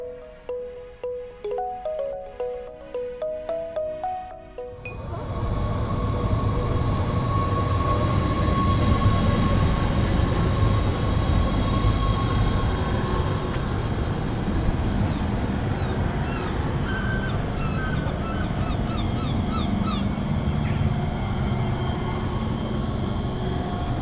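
An SLT commuter train in the Netherlands approaching Zandvoort aan Zee: a loud, steady interior rumble of wheels on rail fills the carriage after a few seconds of rhythmic clicking, continuing without break.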